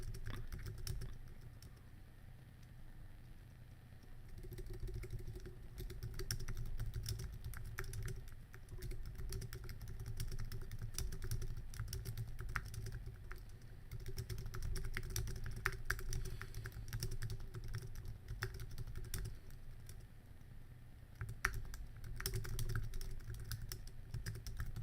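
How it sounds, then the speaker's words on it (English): Quiet, steady typing on a computer keyboard with a continuous patter of key clicks over low background hum, running for nearly half a minute without talk. "so riveting to hear the sounds of typing as I you know say things"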